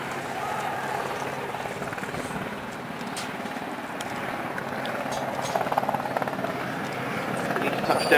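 A Westland Sea King HAR.3 helicopter makes a slow pass at the Duxford spring air show, a steady rumbling rotor and engine roar that swells slightly toward the end, with faint voices in the background.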